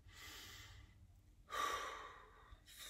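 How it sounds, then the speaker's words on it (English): Slow, deliberate breaths drawn close to the microphone: a long exhale, a pause of near silence, then a fuller breath in and out, with another beginning at the end. "Let's try to breathe."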